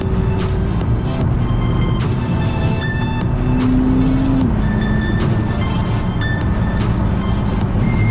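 A McLaren MP4-12C engine drones loudly and steadily, its pitch rising and then dropping as the gears change, with road noise throughout on a canyon road and no voices.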